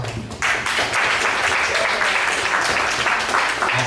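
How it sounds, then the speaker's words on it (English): A round of applause from the audience at a 1 Million Cups Dallas event, dense steady clapping that swells quickly after a brief quiet start and stays loud and sustained. "If you want to give them a round of applause."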